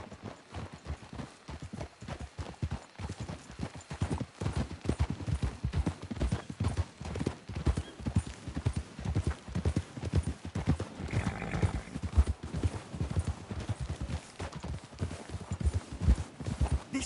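Steady clip-clop of horse hooves at a walking pace in Red Dead Redemption 2, with a brief whinny partway through and no talking.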